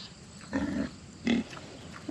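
Pig grunting on a farm, with two short, close grunts about a second apart and a faint third near the end, over quiet outdoor background.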